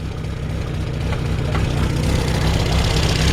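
A 1961 Morris Mini MK1 engine idles cold, a steady low throbbing rumble with a slightly uneven, rough pulse, close and continuous throughout with no voices.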